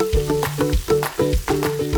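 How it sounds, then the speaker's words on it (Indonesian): Spice paste sautéing in a pan gives a close, steady sizzle. Rhythmic knocks of a spatula or spoon stir it several times a second, with no voices. "sekarang waktunya kita tumis bumbunya hingga matang"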